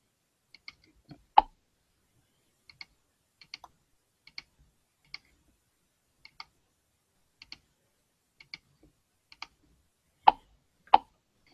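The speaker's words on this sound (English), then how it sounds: "Typing in monies and hitting place bid." Light keystrokes on a computer keyboard come in short, scattered bursts with pauses between them, ending in a couple of sharper, louder clicks as a bid is placed; the sound is close and quiet, with no talking.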